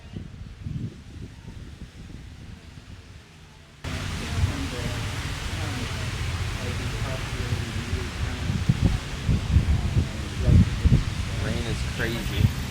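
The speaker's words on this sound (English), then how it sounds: "Rain is crazy." Steady rain hisses outdoors, a dense broadband wash that grows louder and fuller partway through, with voices talking close by underneath it.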